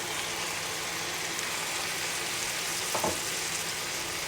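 Squid and shrimp sizzle and fry steadily in a hot pan for Thai seafood basil stir-fry, a loud continuous crackle with a brief clatter near the end and no talking.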